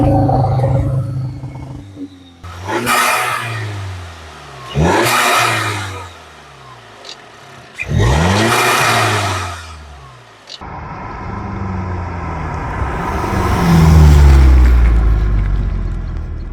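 A 2023 VW Polo GTI launches hard, its engine roaring up through several loud rising sweeps separated by brief gear-change dips, then one long final pull, close and dominant.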